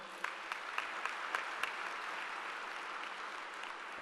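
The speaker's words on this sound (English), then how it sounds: "Let's have a big round of applause for the sir." A conference hall audience at a national gathering of accountancy students applauds a chief guest, soft and distant overall, with a handful of sharper individual claps standing out early before settling into an even patter.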